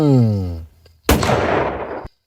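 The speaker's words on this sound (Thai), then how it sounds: "เสียงปืนดังขึ้นกึกก้องกัมปนาด" A single loud gunshot cracks sharply after a fading tonal tone, followed by a long reverberant boom that decays before cutting off abruptly.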